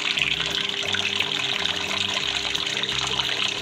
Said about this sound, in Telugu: అది చేయగానే టబ్లోకి వాటర్ తీసుకుంటుంది